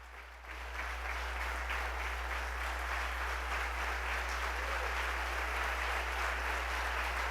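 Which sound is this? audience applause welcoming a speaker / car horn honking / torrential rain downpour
audience applause welcoming a speaker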